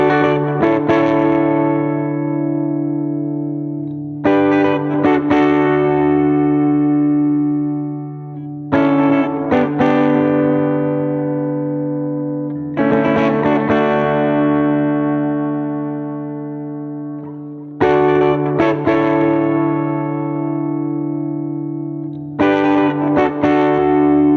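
Electric guitar through an effects pedal, bright repeating echoed chord phrases with a steady droning low note underneath, loud and continuous in regular cycles, no voices.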